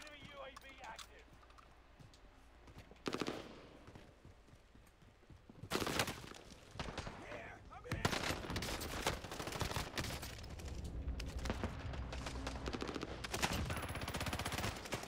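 Automatic gunfire at another player in a first-person shooter game, with several loud bursts and sustained rattling shots from close by, rising toward the end; a voice talks over parts of it.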